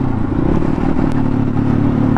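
A newly launched Asian Beast motorcycle being ridden, its engine droning steadily and loud close by with a low rumble and some clatter, no voices over it.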